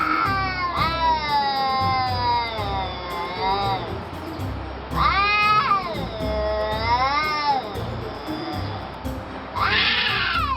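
Two cats yowl at each other in a street fight, long wavering caterwauls rising and falling in three loud, drawn-out bouts, close and harsh.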